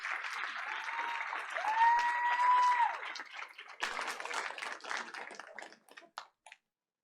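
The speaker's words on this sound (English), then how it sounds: "Ariaha's grandmother, Frintry Dean Reynoso, also deserves a round of applause for raising a wonderful young lady." An audience at a Board of Education meeting breaks into applause, a dense, sustained clatter of many hands clapping that thins into scattered claps and fades out near the end.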